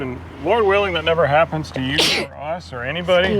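A person sneezes once, a short sharp burst in the middle of ongoing conversation, with talking before and after it.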